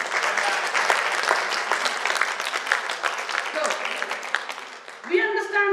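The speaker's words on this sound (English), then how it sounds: "Give a round of applause to our DXN." A seated audience at a health talk applauds warmly, dense steady clapping filling the room throughout, with a voice starting to speak near the end as the applause fades.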